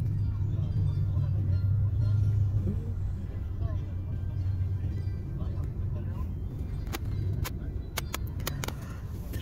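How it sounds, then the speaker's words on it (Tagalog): Road traffic rumbles at close range, with a low, steady engine drone that is heavier at first and then eases. A few sharp clicks and taps break through toward the end. "traffic."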